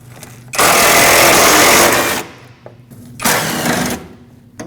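Ten-millimetre bolts being removed with a socket tool while the AC condenser is replaced on a 2005-2021 Nissan Frontier with the 2.5L four-cylinder engine: two loud, close bursts of buzzing mechanical whirring, the first longer, separated by a quiet gap.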